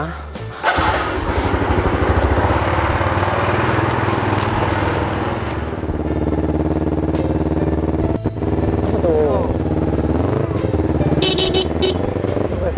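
An old motorcycle engine runs loud and close, a continuous rumbling drone that holds steady, with a brief dip partway through and a few horn-like toots near the end.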